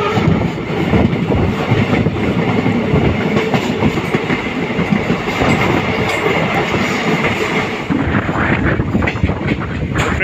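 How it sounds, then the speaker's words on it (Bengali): Passenger train rolling along the rails toward a station in cold weather, a steady loud rumble with wheel clatter and rattling carriages throughout, no voices. "আমরা কিন্তু এখন দেওয়ানহাট রেলওয়ে স্টেশনে কিন্তু প্রবেশ করছি"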